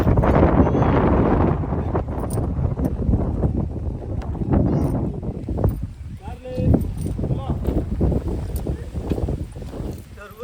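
Cool wind gusts past a pond beside a Surya temple, a steady rumbling buffet on the microphone that stays loud throughout, with people talking over it.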